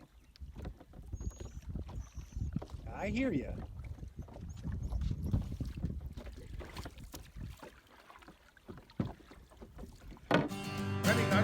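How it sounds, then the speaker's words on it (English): Paddle strokes and water sloshing from an old canoe, paddled one-handed on 5 Mile Lake, with people talking intermittently and a brief tonal sound near the end. "One-handed paddling."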